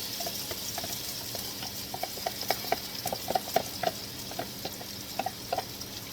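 Beaten egg and seasoning fry in hot oil in a pot, a steady close sizzle with scattered crackling pops and spatters throughout, no voices.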